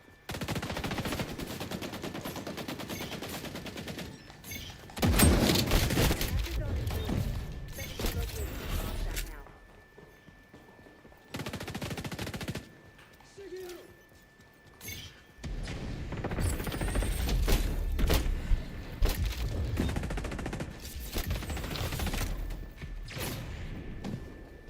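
Sawed-off shotgun fire in the video game XDefiant comes as loud bursts of repeated blasts and thuds, separated by quieter gaps, with faint game noises between them.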